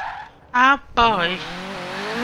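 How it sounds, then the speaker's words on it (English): A car engine in the Forza Horizon 3 racing game revs up with a turbo whine and tire squeal during a drift attempt, loud bursts rising into a sustained high-pitched whistle. "Wasn't for this damn turbo sound"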